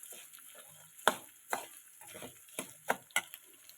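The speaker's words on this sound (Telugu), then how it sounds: "ధనియాలు కూడా స్లో మీద, కొంచెం స్లో కన్నా మీడియంలో పెట్టి వేయించుకోవాలండి." Coriander seeds roast in a pan over medium heat, with soft dry rattling and scraping as they are stirred, several sharper clicks of the spoon against the pan standing out, close and fairly quiet, with no talking.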